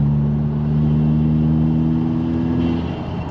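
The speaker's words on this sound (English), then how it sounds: "here we got some nice induction noise coming from that turbo" Turbocharged Subaru WRX, 2021-2025 generation, with an MBRP Race Profile Armor Pro exhaust and new intake, cruising with a steady, loud engine drone and turbo induction hum that holds evenly before easing slightly near the end.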